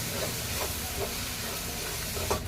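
Homemade spice masala sizzles in hot oil in a home kitchen while a Sankashti Chaturthi offering is cooked, a steady close frying hiss with faint crackles and no talk.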